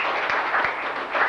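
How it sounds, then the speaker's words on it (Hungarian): Brief burst of audience clapping at a carriage-driving competition award ceremony, a short steady patter of many hands lasting just over a second. "úgy gondolom, hogy egy tapsot megérdemel Völgyesi Balázs"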